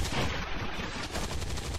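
A burst of gunfire in the video game XCOM 2, a dense rattling volley lasting under two seconds, loud and close with no talk over it.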